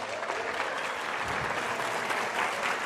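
A studio audience applauds, a continuous, even patter of many hands at moderate volume with no talking over it.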